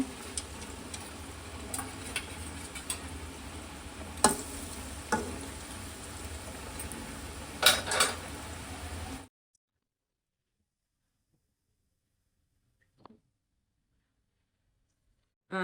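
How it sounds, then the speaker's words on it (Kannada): Chakli dough fries in hot oil with a soft, steady sizzle and occasional ticks and pops, then cuts to near silence with a couple of faint clicks. "ಇವಾಗ ನೋಡಿ ಎಣ್ಣೆಗೆ ಹಾಕ್ತಾ ಇದ್ದೀನಿ."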